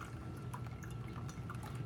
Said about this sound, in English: I'm going to finish pouring the water into my filter.